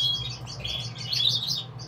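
Pet birds in a breeding room chirp steadily and close by, with a continuous high twittering that carries through the whole moment.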